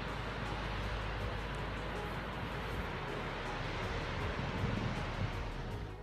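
Strong storm-driven sea waves crash at a harbour under gusting wind, a dense, steady roar of surf and wind buffeting the microphone throughout.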